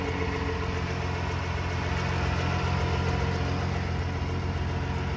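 A 1967 Ford F250 engine idles steadily with a dense, even low rumble and constant vibration, close and unbroken, with no voices.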